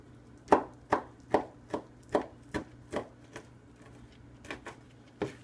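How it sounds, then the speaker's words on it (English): A kitchen knife coarsely chops bacon on a cutting board: about eleven crisp, close knocks in an uneven rhythm, with no other sounds. "I'm just going to coarsely chop"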